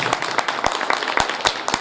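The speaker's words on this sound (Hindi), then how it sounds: "एक बार जोरदार तालियां हो जाए उनके लिए।" Audience clapping at an event, a quick run of sharp, irregular claps from several people close by.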